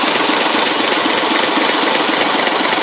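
A Leyland Ribble BD-2 recovery truck's diesel engine runs steadily close by, a loud, continuous mechanical rumble with a dense rattling texture and no pauses, alone without speech.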